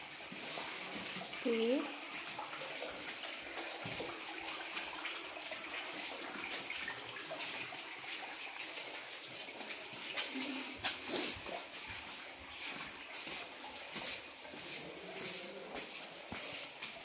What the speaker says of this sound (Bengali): অনবরত অবিরাম ওপর দিয়ে টপ টপ করে জল পড়েই যাচ্ছে